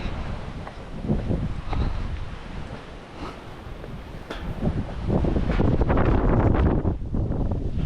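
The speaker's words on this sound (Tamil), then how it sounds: "காற்று பயங்கரமான காற்று." Strong wind at Yelagiri buffeting the microphone in loud, rumbling gusts that rise and fall, growing heavier toward the end, with no talking.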